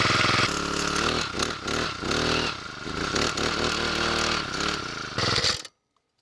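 A Vevor gas-powered post driver's small engine runs at low throttle with a loud, close, buzzing drone that wavers in pitch, then cuts off abruptly into silence.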